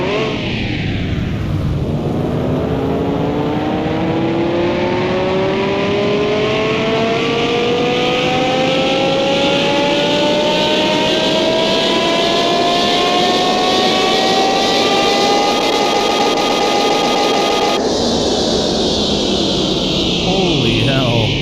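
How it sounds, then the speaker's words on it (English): A Lamborghini Huracan in Car Mechanic Simulator, modded and tuned, revs on a dyno: one long, loud, steady pull with the engine pitch rising smoothly for about fifteen seconds before cutting off and dropping back. "So let's go ahead and hit the dyno here."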